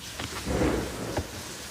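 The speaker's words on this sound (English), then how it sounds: "You heard that thunderstorm, right?" Steady rain hiss with a low, rolling thunder rumble swelling in the middle, no voices present.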